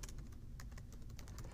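Typing on a computer keyboard, a quick run of soft, irregular key clicks, faint and close, with no talking.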